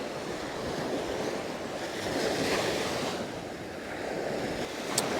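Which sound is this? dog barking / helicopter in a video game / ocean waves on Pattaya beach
ocean waves on Pattaya beach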